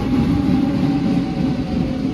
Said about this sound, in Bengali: যে ট্রেন আপনারা দেখতে পাররা